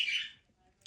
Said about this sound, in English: excuse my bird